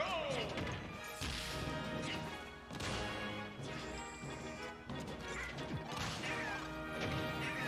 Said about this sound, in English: Yoshi getting hit by 2 up smashes in the first 10 seconds